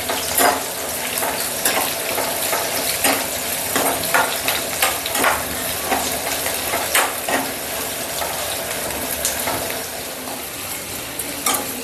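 Green chilies and thinly sliced onion frying in oil with mustard seeds, urad dal and cumin, a steady loud sizzle and crackle broken by repeated scraping stirs of a spoon in the pan.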